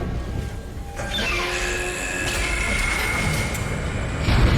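A damaged tram car in the video game Dead Space (2008) gives off a loud, continuous mechanical rumble with high, thin metallic squeals and whines sliding over it throughout.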